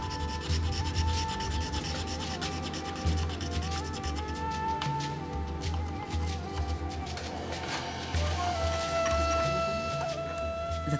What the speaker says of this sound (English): Each piece of mother of pearl is then finely scraped in order to restore its brilliance.